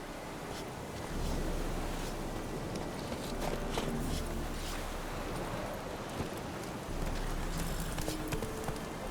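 Horse hooves clip-clop at a steady trot in The Witcher 3, mixed with rushing wind and a surf-like ambient wash, moderately loud and without talk.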